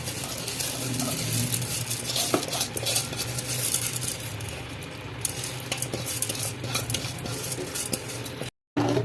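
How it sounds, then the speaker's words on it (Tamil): A spoon scrapes and stirs rice steadily in a pot for soya biryani, with soft clinks and a faint sizzle running underneath, no voices. "அரிசி போட்டோம்னா ஒரு வாட்டி கிண்டி விட்டு வரலாம்"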